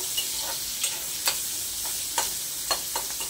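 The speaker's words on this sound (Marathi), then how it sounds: "अगदी थोडासा आपल्याला कांदा भाजून घ्यायचा आहे। थोडा मिक्स करून घेऊया म्हणजे तेलात छान मोकळा होतो तो" Onion fries in oil for a spicy egg curry with a steady close sizzle, while a spoon scrapes and stirs the pan in regular strokes about every half second.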